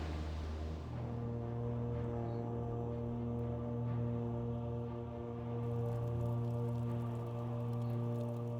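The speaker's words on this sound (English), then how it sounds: "They made it rain, and cats don't like rain." Rain in Guild Wars Prophecies falls as a soft, steady patter that runs throughout, beneath a loud sustained humming drone of game music or ambience.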